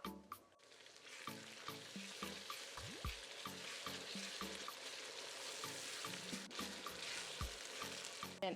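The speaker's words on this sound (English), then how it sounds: "our goal is to fry the entire stew base until we've lost some moisture" An okra stew base with ginger and garlic paste fries steadily in a pan, a continuous close sizzle broken by occasional scrapes and stirring clinks, with no voices.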